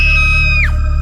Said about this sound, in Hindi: अंदर रूम से दुल्हन की चीख सुनाई देती है।